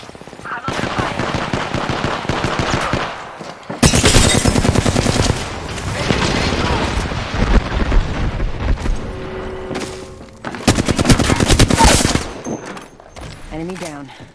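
Heavy automatic gunfire from a video game shooter comes in long, loud bursts with short gaps between them, mixed with booming impacts, while a voice talks now and then.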